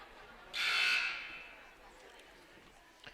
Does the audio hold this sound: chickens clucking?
no